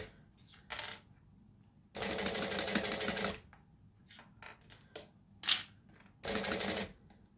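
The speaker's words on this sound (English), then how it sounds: "if you've got a smaller machine, then definitely try and have the bulk out while you top stitch." A sewing machine top stitching runs in short bursts, two longer steady whirring runs among brief stitches, with small clicks and handling sounds between them, fairly quiet and close.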